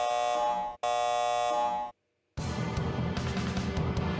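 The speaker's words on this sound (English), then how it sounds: "Warning. Activating alarm system." An electronic alarm system in the Star Ocean video game sounds in loud, steady buzzing blasts, two tones broken by short gaps, then shifting into a noisier, rougher alarm wash.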